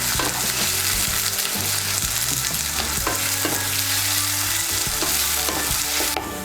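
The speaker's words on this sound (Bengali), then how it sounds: "পেঁয়াজটাকে ভেজে নেব লাল করে" Finely chopped medium onion frying in oil in a kadai until browned, a loud steady sizzle with scattered spoon scrapes and clinks throughout, stopping abruptly near the end.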